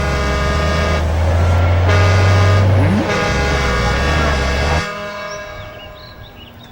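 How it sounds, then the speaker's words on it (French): Buses pulling up in a French-dubbed Inazuma Eleven animated episode: a loud, sustained low engine rumble with a horn-like toot, steady for about five seconds before dropping away and fading. "Regardez, comme si ça ne suffisait pas, voilà des bus."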